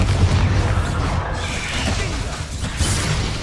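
A Bombarda blast spell goes off in the Hogwarts Legacy video game as a loud booming burst, followed by dense crashing game noise and sustained rumble across the short stretch.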